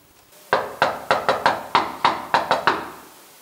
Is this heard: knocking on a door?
yes